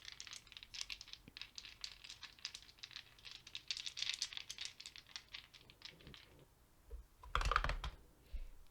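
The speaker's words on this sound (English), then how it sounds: "So we're going to roll these dice" Points to Ponder dice are rolled, making a quick run of dense, light clattering clicks followed by a short pause and then a louder thudding rattle, close by and quiet overall with no talking.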